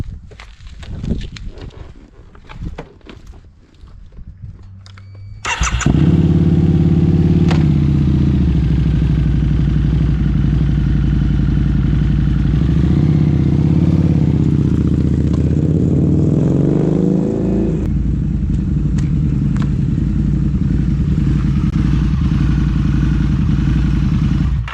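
A 2008 Harley-Davidson V-Rod motorcycle, just repaired after a broken foot brake peg and brake master cylinder, starts after some clatter and then runs loud and steady nearby, with a rev swell partway through.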